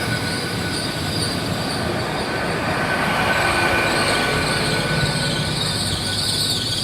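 Nine-carriage Class 800 train passing on the rails, a loud, sustained rumble with high metallic wheel squeal running throughout.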